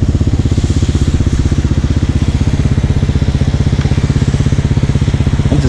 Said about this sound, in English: On my motorcycle.